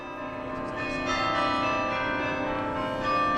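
Bells of the Belfry of Bruges ringing out over the town, a dense, sustained wash of overlapping chiming tones heard from below, steady and moderately loud with no voices.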